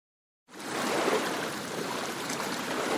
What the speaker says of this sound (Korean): 창문 밖으로 파도 소리가 잔잔히 들려왔습니다